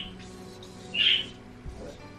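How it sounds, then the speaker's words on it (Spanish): Pet birds in a quiet room give a single clear, bright chirp midway, faint and a little distant, with low background hum and no talking. "Si de vez en cuando se escucha un pájaro de fondo"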